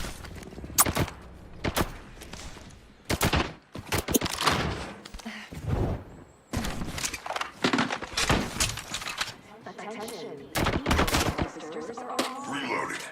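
Video game gunfire, dense bursts of rapid automatic shots and single cracks in quick succession with brief pauses, loud and close, mixed with game sound effects and a little speech.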